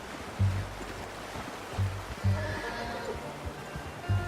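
Horse whinnies in the Red Dead Redemption 2 video game, several short low bursts standing out above a steady background wash of wind or water, with no talking.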